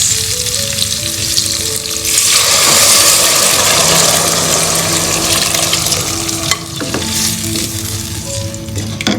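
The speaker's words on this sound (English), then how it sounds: "Now I'm going to add our rasam base." Loud, steady sizzling and frying from a hot pan with garlic, with a brief surge of hissing as mango rasam base is added and stirring clatter partway through.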